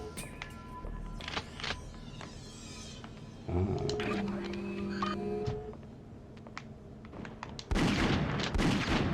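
Pistol and shotgun fire in the PS1 first-person shooter Alien Trilogy, with sharp shots scattered across the scene, a sustained mechanical hum in the middle and a loud burst of noisy blasts near the end over game ambience.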